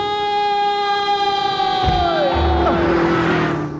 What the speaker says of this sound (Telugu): ఆరినెట్టండి బాబు, సైరన్నే కొట్టాడు. నేను కొట్టమన్నది హారను.